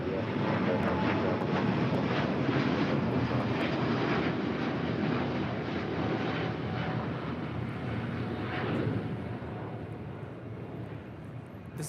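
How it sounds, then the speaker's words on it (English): A two-year-old SAS Airbus A350-900 jet departs LAX for Copenhagen with a loud, sustained engine roar that holds steady for the whole stretch, with some wind buffeting on the microphone and no clear talk. "This is SAS 932 departing to Copenhagen on a 2-year-old A350-900."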